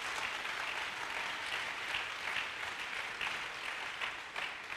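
A church congregation applauds in a steady, dense wash of many hands clapping that holds at a constant loud level throughout.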